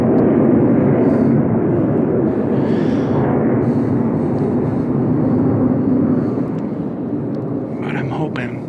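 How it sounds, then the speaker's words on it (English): A Navy jet passes overhead as a broad, loud roar that swells and slowly fades over several seconds, with faint outdoor sounds at the end. "You can hear the Navy jet flying over right now."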